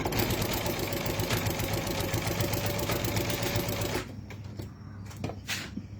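Sewing machine fitted with a walking foot stitching binding onto a quilt, running steadily and loud for about four seconds, then stopping to quieter handling noises.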